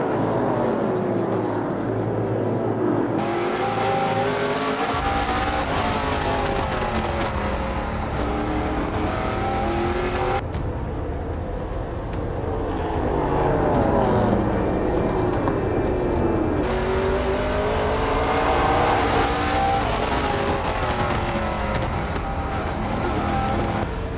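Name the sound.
NASCAR race cars racing on track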